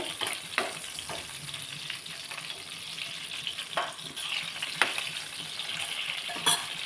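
Cumin seeds, green chilli and kokum frying in hot oil, a close steady sizzle punctuated by crackling pops and the scrape of stirring at irregular intervals.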